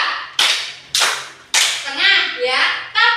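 Children clapping in unison during a classroom clapping game, a few sharp loud claps in a steady beat followed by quicker claps mixed with young voices.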